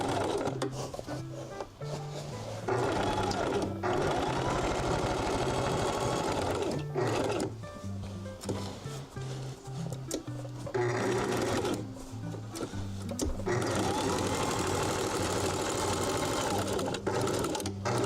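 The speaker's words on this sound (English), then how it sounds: "Come all the way up here and sew down this seam allowance" A sewing machine stitches down a seam allowance, running in steady bursts with short pauses for nearly the whole stretch, close and fairly loud over faint background music.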